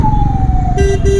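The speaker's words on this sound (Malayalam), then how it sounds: "ആംബുലൻസ്" An ambulance siren on the road wails loudly and close, a sustained tone that drops in pitch as the vehicle passes, over a low rumble of traffic.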